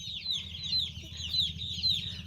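Chickens on a poultry farm at night cluck and chirp in quick repeated calls, fairly close, over a low steady background hum.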